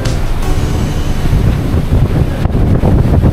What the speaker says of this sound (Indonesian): dan angin terbilang kuat atau kencang sekali